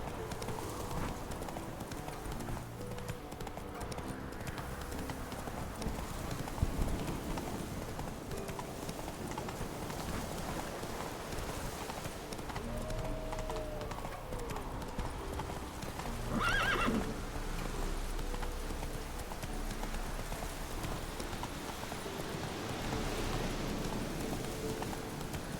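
Horse hooves clip-clopping steadily in The Witcher 3 video game, with a neigh or whinny around the middle, over a faint rain-like background hiss; no talk.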